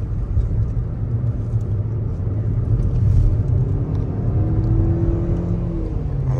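A 2024 Hyundai Accent drives through curves, its engine a steady low rumble and whir heard from inside the cabin, with a rising tone as it pulls through the bends.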